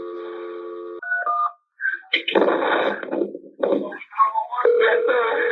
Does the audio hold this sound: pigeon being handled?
no